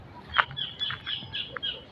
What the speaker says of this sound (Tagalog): manok nga kuan bisayang manok.